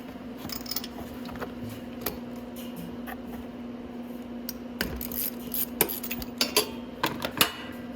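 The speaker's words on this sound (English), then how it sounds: "just a 16 mil deep socket" Metallic clicks and light clinks of a 16 mm deep socket working loose the spark plug on a Venom 110cc or 125cc ATV, scattered taps growing busier and slightly louder toward the end over a steady low hum.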